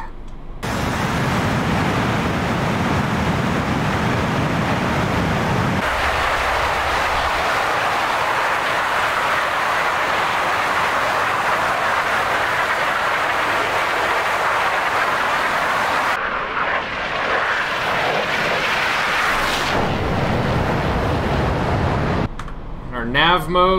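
An Su-25T jet engine spools up in DCS World, a steady loud broadband roar that holds for about twenty seconds with shifts in tone partway through, then cuts off near the end.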